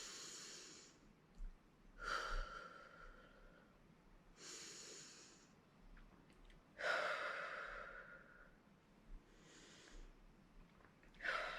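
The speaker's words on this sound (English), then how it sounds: "Take some deep breaths." Slow deep breaths taken while holding a stretch, each inhale and exhale a soft airy rush close to the microphone, coming every few seconds with quiet pauses between.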